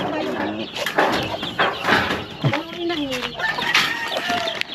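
Several caged chickens cluck and squawk continuously nearby, with people chatting over the noisy, busy flock.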